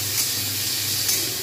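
Whole cumin seeds and potatoes frying in hot oil in a pan, giving a continuous close sizzle and hiss with slight swells.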